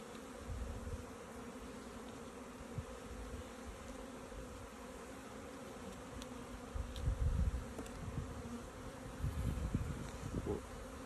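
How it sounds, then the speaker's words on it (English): Honey bees hum steadily during a hive inspection, a dense close buzzing drone that persists throughout, with soft handling bumps and brief louder swells; no one speaks. "A lot of bees."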